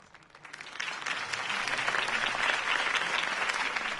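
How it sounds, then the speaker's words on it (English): Applause from a crowd following a campaign speech, rising over the first second into steady, sustained clapping that stays loud and dense throughout with no voices. "If only Mr. Wayne, my campaign's largest backer, could have heard that applause"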